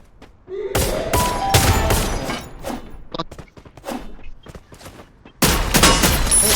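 Gunfire in the Free Fire video game: loud bursts of rapid shots and single cracks in clusters with short gaps, the heaviest volley at the end, plus faint background voices.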